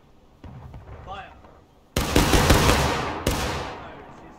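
A musket volley in War of Rights, a Civil War battle game, erupts as a loud, ragged crash of near-simultaneous shots, followed by a second sharp report, after faint voices shouting orders.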